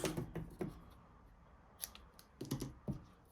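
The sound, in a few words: scissors snipping off paper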